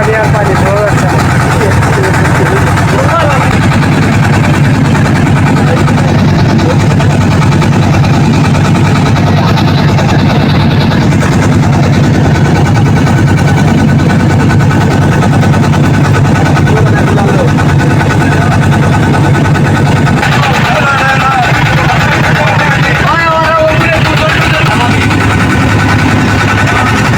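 A boat engine drones steadily as the boat travels the Jamuna river, a loud low rumble with mechanical vibration holding throughout, with brief changes near the end.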